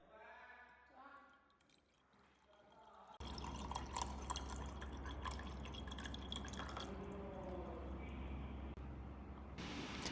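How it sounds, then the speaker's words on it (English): Water poured into beakers holding leather degreaser products: a soft trickle and drip under a brief voice, then a louder sustained pouring and splashing that continues steadily to the end. "I am pouring in water to see how they will react with water"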